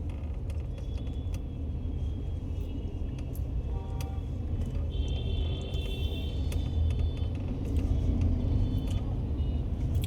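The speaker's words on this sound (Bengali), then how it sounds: "এখন থেকে ট্রাফিক শুরু।" Steady road traffic rolls past in a busy city stretch near a rapid metro line, a continuous low rumble of car and truck engines with faint mechanical creaks, close and unbroken for the whole stretch with no talking.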